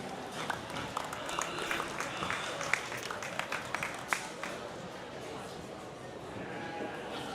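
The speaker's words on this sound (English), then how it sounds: "So give them nice a round of applause." Spectators clap in a steady, moderate round of applause at a livestock swine show in an arena, the sound slightly distant with occasional sharper claps and faint animal and crowd noise mixed in.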